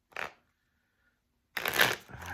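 Tarot cards shuffled by hand in two short bursts, a brief riffle followed by a louder, longer flurry of card noise after a silent pause.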